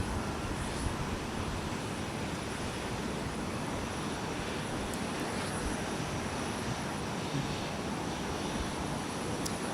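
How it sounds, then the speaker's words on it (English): A Delta Boeing 717-200 airliner arrives at Minneapolis–St. Paul airport, its jet roar a continuous broadband rush that stays fairly faint and even throughout. "Arriving from Cleveland Hopkins International, Delta 1684 with a 717-200 at the point."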